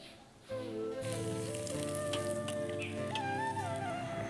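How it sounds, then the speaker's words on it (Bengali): Bata fish sizzles steadily in hot oil, a continuous crackling hiss that starts abruptly, with a faint melodic tone running underneath. "এদিকে মাছগুলো ভাজা হচ্ছে"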